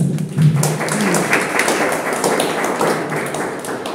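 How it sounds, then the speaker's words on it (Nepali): A church congregation breaks into applause, a close dense patter of many hands clapping that holds steady for a few seconds without a pause. "ताली पुगेन"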